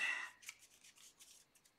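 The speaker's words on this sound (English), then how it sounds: "Okay, so now all this we're going to shuffle." Game cards for the board game Peak Oil Profiteer being shuffled by hand, a brief papery riffle burst followed by a few soft rubbing flicks, close and quiet.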